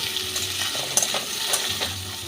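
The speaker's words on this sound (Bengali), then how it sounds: "মিষ্টি কুমড়োটাও আমি খানিকটা ভেজে নেব।" Diced sweet pumpkin fries in hot oil in a pan, a steady close sizzle with a few soft stirring scrapes and clinks, no voices.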